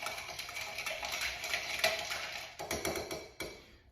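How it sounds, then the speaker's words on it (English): Bar spoon stirring a cocktail, rapid light clinking and ticking of metal against glass and ice, continuous close rattling that pauses briefly and resumes, fairly quiet with no talk. "We're going to stir it, probably till we slur it, I don't know. But go ahead and stir."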